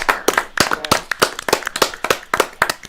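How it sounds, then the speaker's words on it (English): A small audience at a youth music competition semi-final, ages 15 to 18, claps in a round of applause: a steady run of sharp, close hand claps lasting a few seconds with no voices. "I want to give another round of applause to that dedication."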